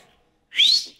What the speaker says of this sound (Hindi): एक बार सीटी बजाओ ना।